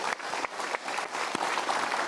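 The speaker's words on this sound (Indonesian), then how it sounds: "kita berikan tepuk tangan untuk Ibu" Audience clapping steadily throughout a motivational seminar talk in Indonesia, dense and continuous applause from a room of listeners with a few sharper claps standing out, no speech over it.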